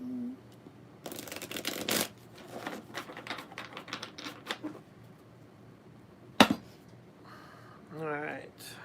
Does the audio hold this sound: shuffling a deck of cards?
yes